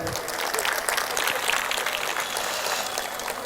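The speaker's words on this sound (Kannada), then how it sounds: "ಒಂದು ಸಲ ಜೋರಾದ ಚಪ್ಪಾಳೆ ಇರಲಿ ಬಂಧುಗಳೇ" A comedy show audience claps loudly, a thick burst of applause that swells and then carries on evenly for a few seconds.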